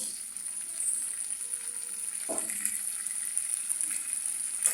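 Potatoes fry in a pan with a steady close sizzling hiss, broken by a single sharp clatter near the middle.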